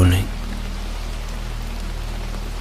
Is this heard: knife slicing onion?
no